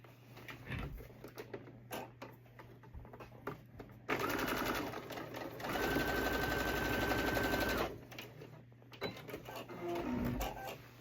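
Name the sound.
sewing machine stitching sport coat sleeve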